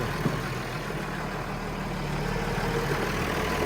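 A tractor's large diesel engine idles steadily with a low, even rumble that holds unchanged throughout.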